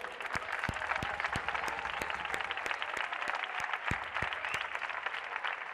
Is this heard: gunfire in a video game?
no